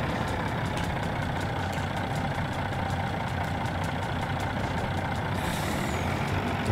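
Truck engine in the farming video game Landwirtschafts-Simulator 19, a steady loud diesel drone with deep rumble and rhythmic mechanical ticking, continuous throughout with a short hiss near the end.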